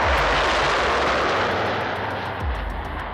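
A Tupolev Tu-144 supersonic airliner flies a display, its engines giving a loud, steady roar that slowly eases with a few sharp cracks, heard at a distance and with no voices.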